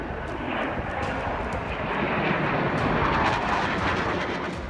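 Fighter jets from European air forces, including French and Polish aircraft, roar overhead in a steady, loud, broadband engine rush that holds throughout without any talk.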